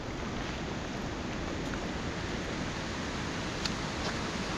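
Steady, even rush of the Gayle waterfall running full with rainwater, a constant hiss-like roar without breaks, nearby and with no voices over it.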